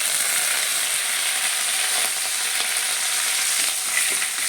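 Curry leaves and urad dal sizzle steadily in hot oil for an upma, a dense, crackling hiss with sharp pops and spatters running throughout, close and fairly loud with no talking.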